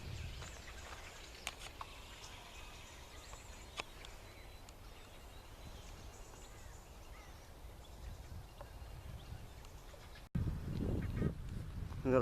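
Faint birdsong and scattered chirps over a quiet countryside background, then a louder rumble of nearby movement near the end as a flock of sheep approaches.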